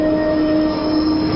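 A city subway train runs on rails with a loud, steady rumble and a sustained high wheel squeal throughout, close and continuous.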